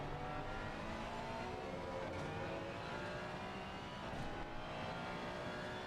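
A race car engine in Assetto Corsa Competizione, a mid-engine car on the Barcelona circuit, drones loudly and steadily at high revs with slight pitch shifts, no voices present.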